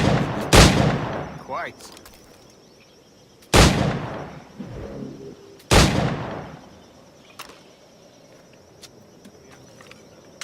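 Pistol gunshots from Assassin's Creed Black Flag ring out as three loud, sharp bangs spaced a few seconds apart, each trailing off with a short echo, with ambient insect chirping and a brief spoken word in between.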